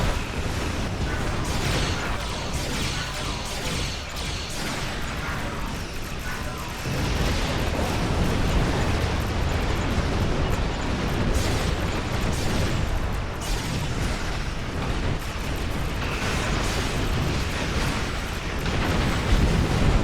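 Transphasic torpedo explosions pound a starship hull during a Borg assault on Starbase One in Star Trek Online, a dense, continuous roar of booms and bursts that swells louder partway through.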